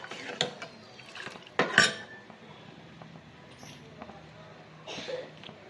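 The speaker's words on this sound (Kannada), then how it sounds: "ಎಲ್ಲ ಒಂದ್ಸಲಿ ಮಿಕ್ಸ್ ಮಾಡೋಣ" Rasam with chopped coriander leaves being stirred in a metal pot: a few sharp clinks and scrapes of a spoon against the vessel, close, with quiet gaps between strokes.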